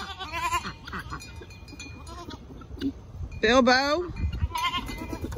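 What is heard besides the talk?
goats on a farm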